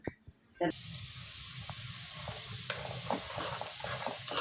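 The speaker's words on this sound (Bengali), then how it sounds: "এই সুজিটা আমি এখন ভালোভাবে তেলের মধ্যে একদম নিব আমি ভালোভাবে কিছুক্ষণ ভাইজা নিব" Semolina stirred and roasted in ghee and oil in a pan, a soft steady sizzle with faint scraping of the spoon, quiet and close, starting after a brief moment of near silence.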